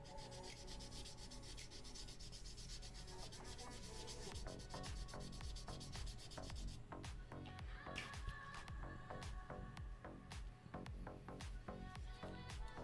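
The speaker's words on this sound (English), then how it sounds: "smart me would take this over to the airbrush booth and sand it in there to catch all the dust coming off" Steady rubbing and scraping of sandpaper over a model aircraft, a continuous close abrasive hiss with quicker strokes toward the end.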